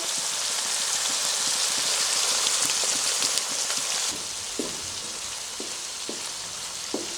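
Beef mince frying in a pan for a dish with green chickpeas, a steady loud sizzle with a faint crackle throughout, easing slightly partway, then a few soft stirring scrapes near the end.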